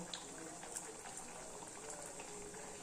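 Sago vadai frying in hot groundnut oil, a faint continuous bubbling fizz with small crackling pops throughout, quiet and close with no talking.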